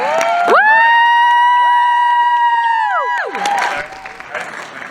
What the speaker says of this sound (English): Round of applause. Okay, so for gray.